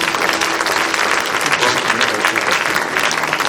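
Church congregation applauding during a Sunday worship service: dense, sustained clapping from many people filling the space, steady and loud throughout, with voices faintly mixed in.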